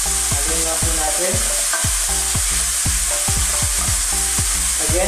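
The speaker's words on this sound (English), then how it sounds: "add now the tomato. Stir it." Tomato stirred while frying in a pan, loud continuous sizzling with a rhythmic series of clattering utensil scrapes against the pan, close and busy.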